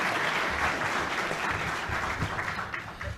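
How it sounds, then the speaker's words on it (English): Warm applause from a luncheon audience at the National Press Club, a thick continuous wash of clapping that stays fairly even throughout. "Please give them all a warm round of applause."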